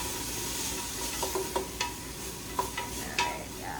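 Diced bell pepper frying in a soup pot for chicken tortilla soup, with a steady low sizzle and a few scattered scrapes and clinks of stirring.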